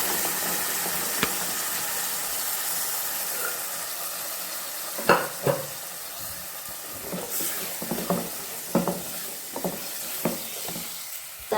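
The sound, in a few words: stirring and frying masala with chickpeas in pan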